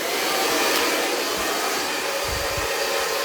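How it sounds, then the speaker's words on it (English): A handheld hair dryer blows steadily up close while drying a cut fringe, a loud continuous whooshing hiss with slight low rumbles as the airflow shifts. "I'm just going to blow dry this just a little bit so I can curve the fringe under"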